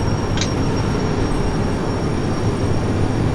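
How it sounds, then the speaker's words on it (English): A train rumbling along the rails in the railway simulation game Derail Valley, a steady low, continuous drone with a faint brief tone near the start, heard alone without talk. "Let's just stop this train and see"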